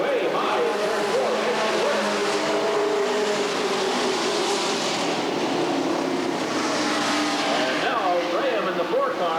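Race cars circle Redwood Acres Raceway in a 1989 race, engines roaring loud and continuous as several pass close by, with a rising and falling whine as cars go by, under an announcer's steady commentary.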